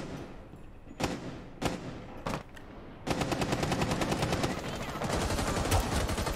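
Gunfire in Rainbow Six Siege: three separate sharp shots at first, then a long, dense burst of rapid automatic fire that keeps going to the end, fairly close and loud.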